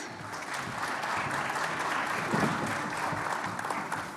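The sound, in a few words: audience applause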